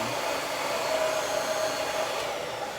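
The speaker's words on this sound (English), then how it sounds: "Now what I'm gonna do on this last one is go in with the dryer and dry it a little bit." A hair dryer blows steadily and fairly loud on a lace front wig, one even whooshing airflow with a faint whine and no talk.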